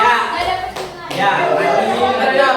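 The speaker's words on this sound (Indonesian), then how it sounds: "Tepuk tangan dulu, sudah benar." Students in a classroom clap their hands together in a steady burst, loud and close, with a brief lull before the applause swells again and carries on; voices of a teacher and children are mixed in.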